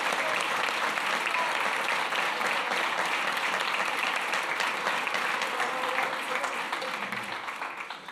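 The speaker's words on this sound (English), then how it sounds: "give yourselves a round of applause for a great job this summer" Sustained applause from an audience at a town finance committee meeting, dense steady clapping filling the room for about eight seconds before tapering slightly at the end.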